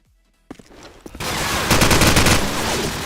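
AK-47 fire in Call of Duty 4 Modern Warfare during a 1v1 free-for-all match: a couple of single shots, then a loud, sustained automatic burst of rapid gunfire.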